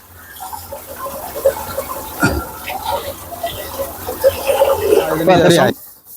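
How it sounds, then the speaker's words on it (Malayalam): Water gushing and splashing steadily into a drum for mushroom growing, building in force before cutting off abruptly, with a voice faintly present underneath. "രണ്ടിഞ്ച് മൂന്നിഞ്ചിക്ക് നെറ്റിന്റെ മുകളിൽ എത്താത്ത രീതിയിൽ വെള്ളം ഫില്ല് ചെയ്യാം"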